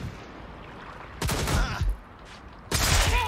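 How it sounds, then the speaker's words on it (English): Enemy gunfire in the video game Watch Dogs Legion: two loud close bursts of rapid shots, the first lasting about half a second, the second starting near the end, over a low background rumble. "How are they shooting me through a fucking wall, man?"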